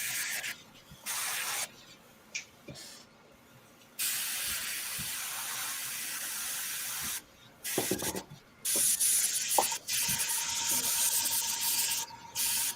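An airbrush sprays paint onto a dragon figure in bursts of hiss, several short and long sprays separated by quiet pauses, close to the listener with no talking.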